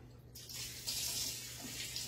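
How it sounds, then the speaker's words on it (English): Tap water runs into a sink off to one side, a steady close hiss that starts abruptly after a brief quiet moment and continues without a break. "the sink is off camera over here running"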